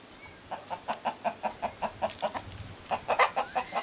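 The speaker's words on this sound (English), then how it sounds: "that's our crossbred rooster who normally hangs around with our crossbred hens" A crossbred rooster and hens cluck in a steady, rapid rhythm, a run of short, close clucks with a brief pause midway before the clucking picks up again.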